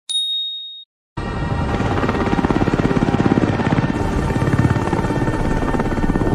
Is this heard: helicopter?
yes